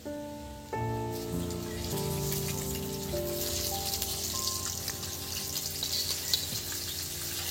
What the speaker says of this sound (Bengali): বন্ধুরা এবার এটা সেকেন্ড ফ্রাই হচ্ছে দেখুন বন্ধুরা।